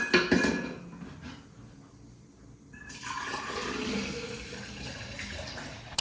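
Water runs from a tap into a bottle, a steady hiss and gurgle that fades into quiet partway through and then resumes as the filling continues.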